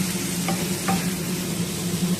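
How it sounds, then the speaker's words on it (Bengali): Eggplant pieces fry in hot mustard oil, giving a steady close sizzle with faint clinks of stirring throughout, no voices. "বেগুনটা ভাজা হচ্ছে"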